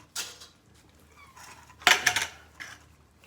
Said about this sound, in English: These lids go back in the main pot so the tops can drain out.